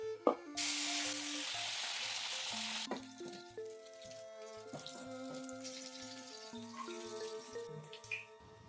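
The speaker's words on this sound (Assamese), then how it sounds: "এয়া অলপ ব্ৰকলি লৈছোঁ, তাৰপিছত এইখিনি এতিয়া অলপ তেলত ভাজি লওঁ" Broccoli fries in hot oil with a bright, loud sizzle at first that settles into a softer crackle, with utensil clinks and a tapping stir throughout.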